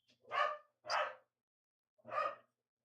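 Dogs barking three times, two quick barks then a short pause and one more, clear and fairly close against an otherwise silent background.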